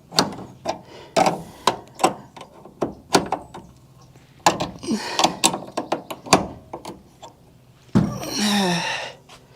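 A 5/8 wrench on crusty nuts makes sharp metallic clicks and knocks in an irregular series, close and fairly loud, ending with a brief rougher ratcheting scrape.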